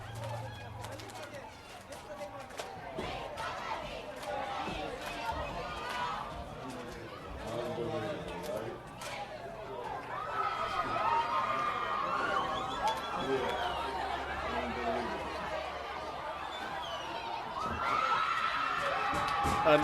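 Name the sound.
stadium crowd cheering at high school football game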